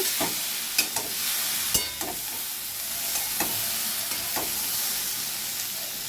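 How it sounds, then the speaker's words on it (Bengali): Watermelon rind curry sautés in an oiled pan, a steady close sizzle punctuated by rhythmic spatula scrapes and taps against the metal, heard alone without speech. "খুব ভালো করে আমি সাঁতলে নিয়েছি।"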